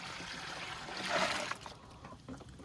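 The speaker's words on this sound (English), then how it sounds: "now I'm just going to add 1 more container of water" Water poured from a container into a batch of fermenting chicken feed pellets, a steady splashing trickle that swells briefly in the middle before tapering off into small drips, close and fairly quiet.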